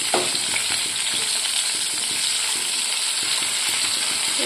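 Fish heads frying in a pan of hot oil, a steady dense sizzle filling the whole stretch at close range, with faint stirring clinks now and then and no voices.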